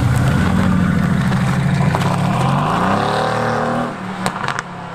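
A Mercedes-AMG car engine revs up hard and climbs in pitch, loud and close, then eases off near the end.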